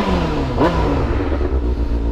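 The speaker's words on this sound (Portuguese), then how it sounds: "Vamos ver o escapão do negócio que tá berrando" A Honda Hornet motorcycle with a modified exhaust revs nearby with a loud, deep, throaty rumble. The engine pitch rises in a brief blip and then sinks back to a steady growl, with no talking over it.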